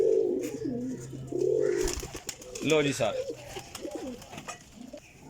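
Desi flying pigeons coo repeatedly in soft rolling phrases at close range, while someone talks over them with wing flutters and small rustles.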